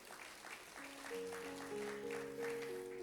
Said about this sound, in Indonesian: Yang setuju, tepuk tangan paling meriah buat Tuhan dulu.